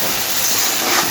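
Masala sizzling steadily in a pan as it is sautéed for a koi fish curry with ground chilli paste, a continuous close, even hiss with no break.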